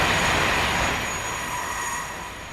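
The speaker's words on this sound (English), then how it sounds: "that's the green train. It's a different train to the other one." A green train rolls past in the farming game Farming Simulator 19, a steady loud rumble of wheels and carriages with a faint high squeal that eases slightly as it goes by.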